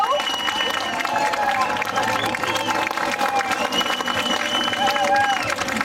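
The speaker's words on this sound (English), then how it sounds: "Let's have a big round of applause for the diva of radio." An outdoor crowd at a spring event in San Francisco gives a steady round of applause with some cheering and shouts, sustained throughout at moderate distance.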